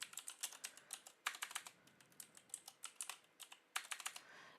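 Quick bursts of typing on a keyboard or phone as an email address is entered for a Google account login, crisp close clicks in uneven clusters with short pauses, no voices.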